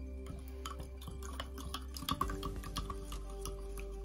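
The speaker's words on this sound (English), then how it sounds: "Stir it up." Baking soda and water being stirred in a glass container, with soft scraping and clinking against the glass, a brief louder knock midway, and a continuous low hum underneath.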